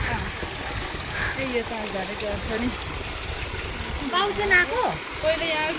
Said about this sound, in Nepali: फेरि यो चाहिँ हाम्रो अर्ग्यानिक धारा होइन? हजुर, अर्ग्यानिक धारा है।